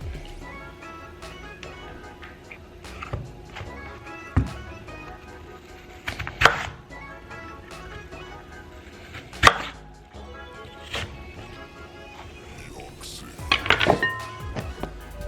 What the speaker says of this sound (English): this is the way that I cut all the apples up